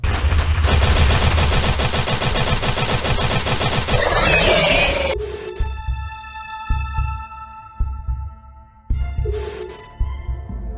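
Rapid gunfire in a Flash video game as the player shoots at a level boss, a dense loud stream of shots for about five seconds, then sparser bursts and electronic game tones with a brief final volley.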